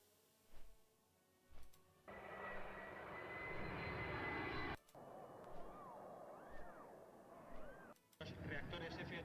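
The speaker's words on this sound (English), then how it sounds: "Reactores F-86 Sabre, North American ya de caza bombardeo." Jet engines of a North American F-86 Sabre fighter-bomber, a broad roaring rush that swells and holds, broken by short sharp bursts, with faint voices underneath.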